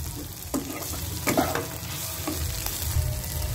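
Chicken chow mein with a spoonful of Amul fresh cream is stirred in a pan: a few scraping spatula strokes over a steady, close frying sizzle.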